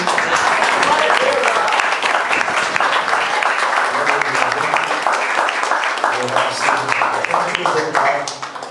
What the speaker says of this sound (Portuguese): as palmas são para o Senhor.